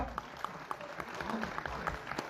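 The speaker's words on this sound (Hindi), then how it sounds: "तो जोरदार ताली ठोके ना यार एक बार।" Audience at a motivational seminar session bursts into clapping, a steady crackle of many hands with a few sharper claps standing out, moderately close throughout the short burst.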